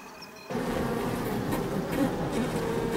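Honey bees swarm around a hive raided by an African honey badger in Kenya, giving a dense, steady, close buzzing drone that swells in abruptly and holds without a break.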